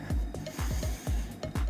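Someone doing lunges in a leg workout breathes hard in and out. The nasal breaths and puffs come up close in a quick, uneven rhythm of about seven short bursts, with no talking.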